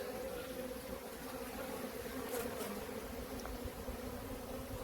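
A dense, steady buzzing of many honeybees fighting at a hive during robbing fills the air continuously, loud and close, with no voices.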